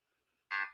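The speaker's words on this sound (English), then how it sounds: "Excuse me, that's my phone." A mobile phone gives a short, bright text message alert, a single tone burst near the end that cuts in after near silence.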